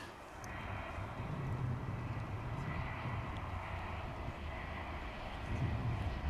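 An airliner passes at Dallas/Fort Worth Airport, a steady, distant engine rumble holding at a low, even level throughout without speech.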